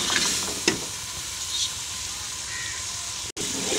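Chickpeas are stirred and fried in a pan, making a steady, close sizzle with a few spoon scrapes and knocks near the start and a brief cut-out toward the end.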